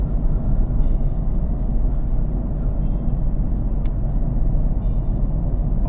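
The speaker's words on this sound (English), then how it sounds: "on this straight, relatively straight, fairly smooth stretch of tarmac, the tyre noise is amazing" Loud, steady tyre roar from a Nissan 370Z Nismo driven along a fairly smooth, mostly straight stretch of tarmac, heard from inside the car as a constant low rumble with no talking.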